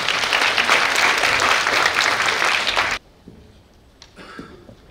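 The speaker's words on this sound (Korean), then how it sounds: "큰 박수 부탁드립니다" Loud, dense applause from the audience at a high school admissions briefing fills the first three seconds, then cuts off abruptly, leaving faint room noise and a few small knocks.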